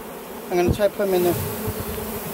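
Honey bees swarm and buzz around a hive packed with tens of thousands of them, a close steady drone with rising whines as individual bees pass near, while someone talks over it.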